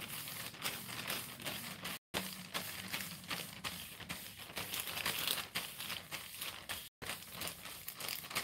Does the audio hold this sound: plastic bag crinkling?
yes